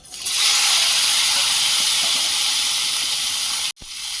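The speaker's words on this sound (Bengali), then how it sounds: "আলু ভাজার তেলে পটলটা ভেজে নেব" Pointed gourd dropped into hot oil left over from frying potatoes: a loud, steady, close hiss and sizzle that holds evenly, broken near the end by a brief knock, with no talking.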